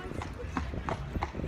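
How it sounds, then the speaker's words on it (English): Horse hooves clip-clop at a steady walk as a carriage rolls along a seafront, a regular rhythm of fairly close knocks under ongoing chatter and ambient noise. "You see the horse there?"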